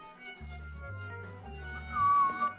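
A cat meows in a drawn-out, whining call near the end, rising over a steady low hum with a mechanical tone pattern beneath it.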